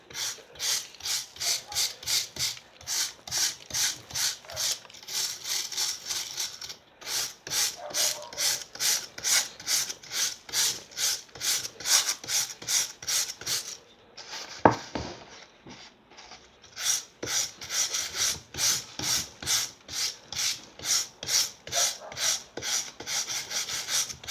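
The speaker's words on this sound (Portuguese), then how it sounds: "vamos ver se a gente consegue escovar ela aqui. Ó, escovar a gente consegue." A brush scrubs rhythmically across a styrofoam and cement waterfall that is not fully dry, giving steady rasping strokes in even bursts with a short pause midway, close and fairly loud with no talking.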